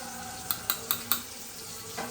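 A spoon stirs a masala spice mixture in a cooking pan. Four quick, sharp clinks against the metal come in a steady rhythm, then a softer scrape follows over a quiet background.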